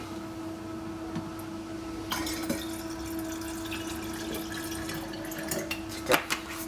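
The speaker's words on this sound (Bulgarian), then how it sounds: "Ще отлея горе-долу по еднакво количество от трите води." Spring water trickles and splashes into a container, faint and close, with a steady hum underneath and a few clinks and drips near the end.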